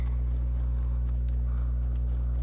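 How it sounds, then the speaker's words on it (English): Footsteps in the video game Fortnite tap lightly and irregularly, faint under a loud, steady low hum of game background sound. "I heard some footsteps over here"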